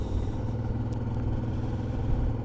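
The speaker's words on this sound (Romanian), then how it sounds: "Ce greu se manevrează motocicleta așa full încărcată la viteze mici." A fully loaded Honda Transalp 650 motorcycle rolls along at low speed, its engine giving a steady, close, low rumble with no pauses and no talk.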